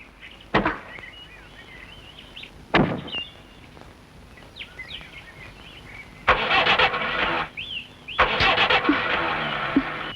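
An old, worn-out car engine repeatedly cranks without catching: short bursts near the start, then two longer grinding attempts later, loud and close, with birds chirping faintly between them.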